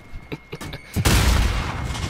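Rapid bursts of gunfire and explosions from a Modern Warfare match, a few sharp pops giving way to a loud, sustained roar of blasts that fills the rest of the moment.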